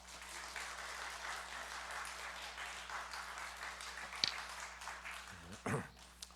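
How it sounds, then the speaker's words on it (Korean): Soft, steady applause from a church congregation welcoming the pastor to the pulpit at a Sunday service, faint and diffuse in a large room, ending with a few louder bumps. "박수로 맞겠습니다."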